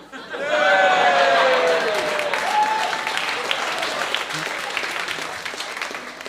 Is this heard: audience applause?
yes